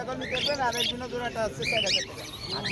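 Caged birds at a bird market, including lovebirds and cockatiels, chirp and twitter in quick repeated bursts close by, with people talking over the busy calls throughout.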